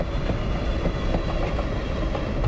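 Simulated passenger train from Passenger Train Simulator rolling steadily at around 50 km/h, a continuous close rumble with faint rhythmic wheel clatter, loud and alone.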